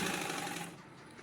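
Sewing machine running a top stitch along a folded-over fabric edge strip, a steady close whirring hum that tapers off after a second.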